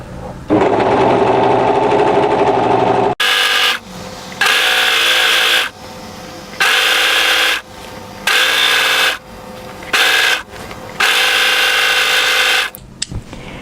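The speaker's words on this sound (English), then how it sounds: "So now go ahead and overlock the back hem." Overlocker stitching the back hem of a striped knit tee dress, running in loud bursts of steady high-speed whirring with short pauses between each run.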